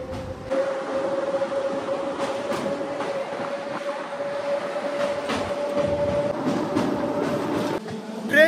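A local DEMU train on the Lataguri–Siliguri line in the Dooars runs steadily with a loud interior rumble and wheel clatter, a sustained horn-like tone held through most of it, and a rough jolt near the end.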